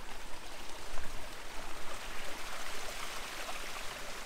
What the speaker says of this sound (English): I can hear water running down the mountain.